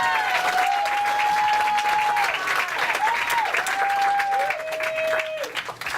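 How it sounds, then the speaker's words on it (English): An audience at a stand-up comedy show applauds in a steady, dense wash of clapping, with a voice speaking over it. The clapping thins out toward the end. "Keep it going for Daniele."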